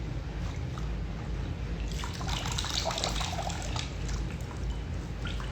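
Water from a warm washcloth trickles and drips in a steady, close wash of liquid sound that grows busier partway through, with no talking.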